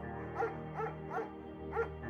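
A dog in the video game Firewatch gives four soft, evenly spaced barks or yips over a steady tonal game soundtrack.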